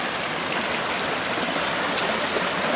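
A wilderness creek flowing over wet rocks, a steady broadband rush of running water heard close and constant with no voices.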